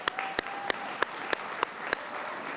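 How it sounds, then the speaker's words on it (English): An audience at the Bloomington Black History Month Gala in 2024 gives a round of applause, a steady, moderate wash of clapping punctuated by sharp, evenly spaced louder claps. "please join me in giving them just another round of applause"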